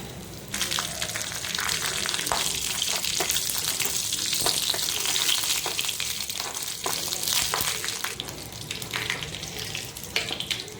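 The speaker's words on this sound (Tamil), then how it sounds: "கடுகு உளுத்தம் பருப்பு சேர்த்துக்கலாம்." Mustard seeds and urad dal sizzle in hot oil for a tempering on spicy chutney, a loud continuous frying hiss with scattered sharp pops and crackles throughout.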